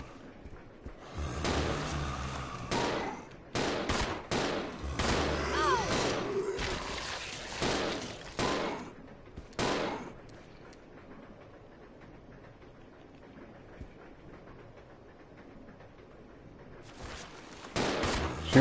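Rapid bursts of gunfire from the video game Resident Evil Zero, clustered loudly in the first ten seconds, then a quieter stretch with background sound before more shots near the end; a voice talks over it.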